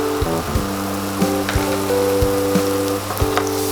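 Banana pancake batter frying in oil in a pan, a loud, steady sizzle with faint crackles and a few soft taps and clinks over a low tonal hum, with no talk.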